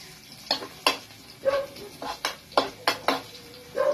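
Onion and garlic sauté in a pan for chopsuey, a soft background sizzle broken by a series of sharp scraping stirs of a utensil against the metal, repeated in quick irregular strokes.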